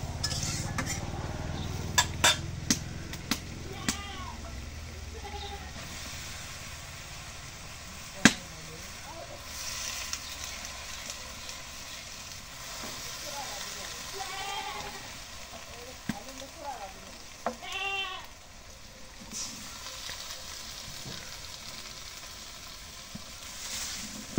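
Taro greens hit a pan of spices and get stirred, with steady close sizzling throughout and repeated scrapes and clanks of a utensil on the pan, while people talk intermittently.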